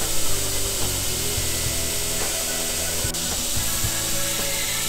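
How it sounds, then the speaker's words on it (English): Knife handle scales are ground on a belt grinder with 3M abrasive belts, progressing from 36 to 150 grit, producing a loud continuous abrasive whir with the steady motor hum underneath and brief contact changes. "We're going to start by grinding our handle scales from 36 grit all the way up to 150 grit"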